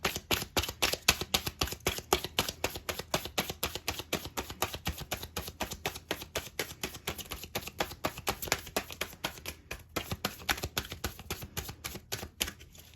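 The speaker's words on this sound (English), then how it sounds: "all your shuffles were long and difficult" Rapid, repeated riffling and tapping of tarot cards being shuffled, close and fairly quiet, continuing in uneven bursts.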